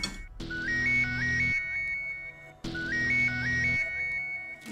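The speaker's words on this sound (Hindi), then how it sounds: "भाभी आप फोन उठा लीजिए ना" A phone rings in a home kitchen, its melodic electronic ringtone playing twice in a row, loud and close, with no voices over it.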